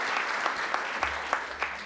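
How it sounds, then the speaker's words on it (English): A conference audience in Sydney gives a round of applause, fairly soft and steady, with a few sharper individual claps standing out and a low hum appearing partway through. "Give them a round of applause, please."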